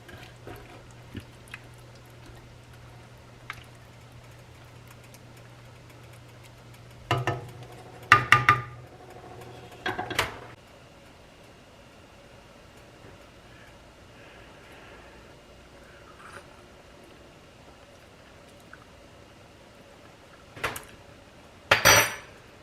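A spoon stirring homemade chicken noodle soup in a pot, with a few scattered clusters of metallic clinks and scrapes against the pot separated by long, quiet stretches.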